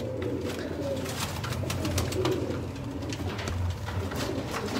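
Sialkoti pigeons cooing close by in a series of soft, repeated low coos over a faint background hum, with no talking.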